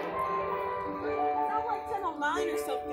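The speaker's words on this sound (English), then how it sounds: "It's the clock tower." A clock tower bell chimes with long ringing tones, its pitch sliding and swelling as the peals overlap, sustained steadily throughout.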